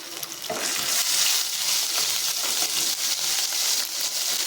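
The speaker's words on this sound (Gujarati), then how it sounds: "આદુ લસણ મરચાંને આપણે સરસ રીતે અહીંયા સાતળી લઈશું।" Ginger, garlic and chilli paste with cumin sautéing in hot oil, a dense, fairly loud sizzle that holds steady with light stirring throughout.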